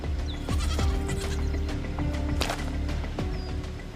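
Mountain goats on a cliff bleating repeatedly, several wavering calls in quick succession, fairly close and loud over a low steady rumble.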